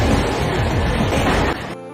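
Train in an anime film scene rumbles past with a steady clattering roll of wheels on track, loud and continuous, before cutting off abruptly near the end.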